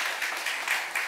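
Short burst of congregational applause in a church service, a soft, even patter of many hands clapping in pulses, fairly distant and brief, with no talking on top.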